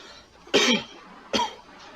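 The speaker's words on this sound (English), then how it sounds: "Can we take a sample of your cough?" Two sharp, close coughs about a second apart, each a short harsh burst from one person, with quiet room tone between them and no talking.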